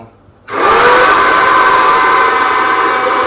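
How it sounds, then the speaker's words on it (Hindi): A mixer grinder whirs loudly as it grinds chilli and salt together, a steady high-pitched motor roar that starts abruptly after a moment of quiet and holds without pause. "हमारा मिक्सर कुछ ज़्यादा ही साउंड कर रहा है"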